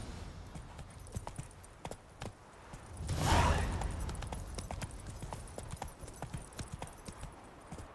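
Hooves of the horse Roach clip-clop in The Witcher 3, a quick steady rhythm of soft thuds with a brief louder whoosh in the middle, fairly quiet and close.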